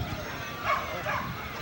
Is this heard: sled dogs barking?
yes